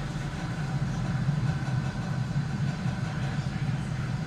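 Falcon 9 rocket engines roar during a crewed Dragon launch, a steady, dense low rumble that holds constant throughout with no breaks.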